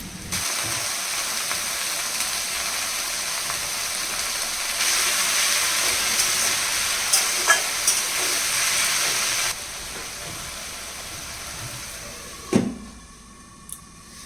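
Jute leaves fry in a pan with a long, even hiss of sizzling, with a few faint pops and clicks, then a sharp knock near the end as the hiss drops away.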